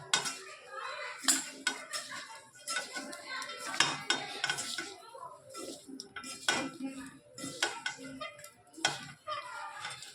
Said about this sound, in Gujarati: સરસ બધું વસ્તુ આપણે મિક્સ કરી લઈએ.